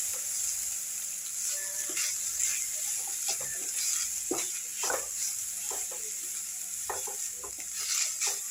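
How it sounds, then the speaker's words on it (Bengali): Grated coconut stirred in a hot pan for coconut rice, a continuous sizzle under irregular close scrapes and taps of a spoon, no talking. "এটা একটু নেড়ে নেব।"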